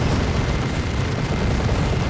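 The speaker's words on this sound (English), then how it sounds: "Very good assault cannon barrage" A Space Marine assault cannon barrage in Warhammer 40,000: Dawn of War 2 lets out dense, continuous rapid fire and rumbling blasts, loud and unbroken throughout.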